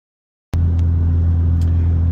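A BMW M3 on the G8X platform with a tuned pop setting barks to life after silence, then settles into a loud, deep exhaust drone close by, with a couple of faint crackles over it.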